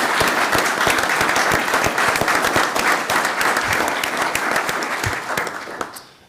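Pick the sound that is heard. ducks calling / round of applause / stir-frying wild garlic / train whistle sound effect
round of applause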